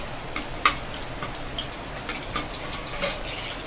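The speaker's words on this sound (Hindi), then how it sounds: "जीरा को हल्का चलाते हुए उसको भून लेते हैं" Cumin seeds and curry leaves frying in hot oil, a soft steady sizzle with a few light spatula scrapes and clinks as they are stirred, close and quiet, no talking.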